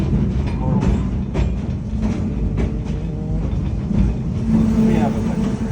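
A train on the San Jose to Santa Cruz line rolls through an ancient redwood grove near Felton, its low rumble and intermittent rail clacks continuing steadily while a voice talks over it.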